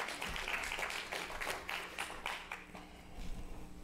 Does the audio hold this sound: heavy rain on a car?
no